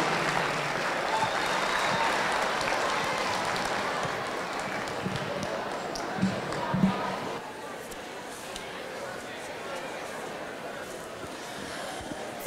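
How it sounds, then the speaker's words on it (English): Audience applause fills a youth fair market steer show arena, a steady dense clapping that runs loud for about seven seconds before thinning out to a quieter patter, with scattered shouts above it. "Let's give this class a round of applause."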